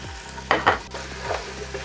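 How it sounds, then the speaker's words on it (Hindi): Boiled medium onions stirred and frying in a pan over medium flame for mutton namkeen gosht, with a soft steady sizzle broken by a few louder stirring scrapes. "इसे 2 मिनट के लिए ना फ्राई कर लें"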